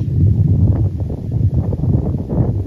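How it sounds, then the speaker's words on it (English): Low, blustery wind rumbling against the microphone, constant and heavy with uneven gusts, no voices present. "Is it too windy here?"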